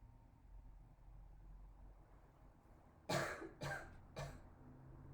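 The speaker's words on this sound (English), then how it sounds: "you're going to cough 2 to 3 times" A patient coughs three times in quick succession during a breathing and cough exercise, close and clear against a faint background hum.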